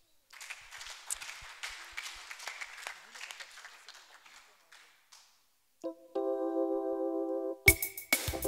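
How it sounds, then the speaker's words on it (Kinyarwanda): Church audience at a gospel worship concert clapping and applauding, a dense patter of many hands that fades out midway, followed by a sustained organ-like keyboard chord and a sharp loud burst near the end. "Nta muntu unezera ngo akubitire Imana amashyi."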